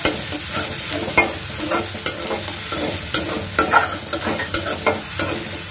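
Fish fries with a paste of mustard, green chilli and salt in a pan, sizzling steadily up close while repeated stirring strokes scrape and clatter in an uneven rhythm, with no talking.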